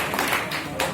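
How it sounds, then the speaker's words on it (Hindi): A Hindi poetry recital audience claps loudly, a dense broadband patter of many hands filling the whole moment with brief surges near the start and end. "एक बार जोरदार तालियां बजाइए।"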